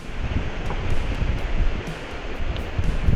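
Wind and sea on the coast at Muscat, Oman: steady broadband rushing with low rumbling gusts and microphone buffeting, loud and close, with no voices.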